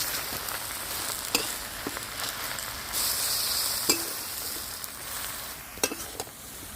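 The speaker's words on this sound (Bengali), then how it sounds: "শাকের সঙ্গে ভালো করে আমি মিশিয়ে নেব" Kochu greens are stirred with salt and turmeric in a hot pan, giving a steady sizzling hiss broken by irregular scraping clicks from the spoon.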